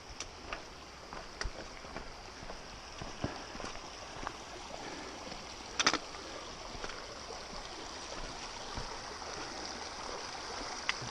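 A stream flows across a hiking trail on the Bright Angel Trail, a soft, steady wash of running water with faint splashes and clicks scattered through, heard alone and quiet.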